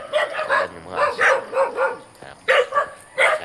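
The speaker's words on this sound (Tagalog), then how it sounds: "Ang mga aso nagtatahulan na. Tahulan yung mga aso." Several dogs bark in short repeated bursts as people approach a rural spot, the yelps fairly close and loud with brief pauses between volleys.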